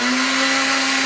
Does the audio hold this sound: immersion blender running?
yes